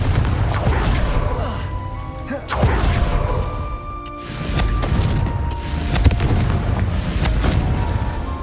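Confringo blasting spell going off in Hogwarts Legacy, a run of booming, crackling magical explosions with a sharp burst near the middle, over a dense game soundscape and background music.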